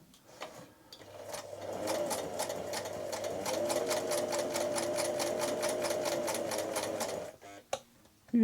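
A Singer 247 sewing machine runs steadily for about six seconds, its rapid needle clatter and motor hum close and even, with brief handling noises before and after.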